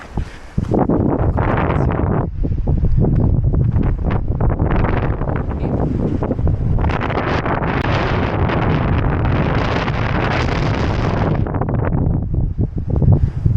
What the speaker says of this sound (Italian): Vento fortissimo.